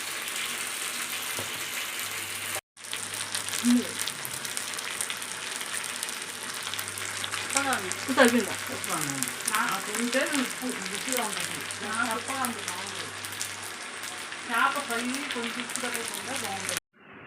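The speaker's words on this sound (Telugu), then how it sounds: "ఇలా రోస్ట్ చేసుకోవాలి ఫ్రై లాగా." Pilot fish roasting in a frying pan, a steady broad sizzle running throughout with a brief break near the start, while a voice talks over it in the foreground.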